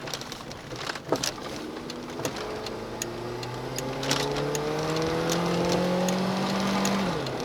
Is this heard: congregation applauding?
no